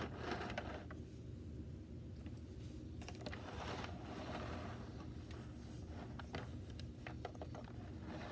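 A small Hexbug Garden-go-round toy whirs faintly as its plastic flower mechanism spins the legs around, a quiet ticking, clicking gear sound with irregular taps over a low steady hum.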